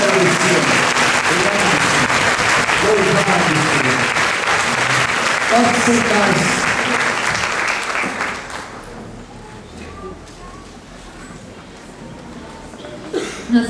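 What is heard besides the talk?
applause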